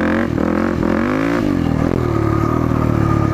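Dirt bike engine held on the throttle during a wheelie, a loud, close, continuous motor drone with the pitch dipping and rising as the throttle is worked.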